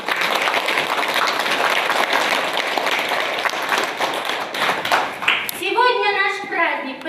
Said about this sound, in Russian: Давайте поздравим их бурными аплодисментами.